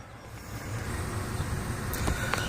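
A vehicle with a worn BorgWarner transfer case chain runs with a steady low rumble and drivetrain noise, shaking throughout, with a couple of brief knocking clicks near the end.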